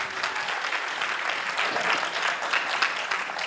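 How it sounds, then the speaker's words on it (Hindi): A theatre audience at a culmination-day stage performance applauds the performers, a steady, dense burst of many hands clapping at moderate loudness throughout. "सुंदर प्रस्तुति, एक बार जोरदार तालियां इनके लिए।"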